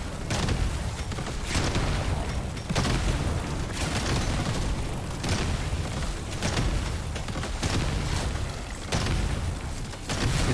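Loud booming explosions go off one after another in a video game, heavy rumbling bursts repeating roughly every second without pause, with no talk over them.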